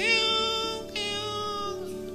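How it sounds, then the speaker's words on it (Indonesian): A cat meows in two drawn-out, wavering cries, close and clear with no talk over them. "Ada kucing"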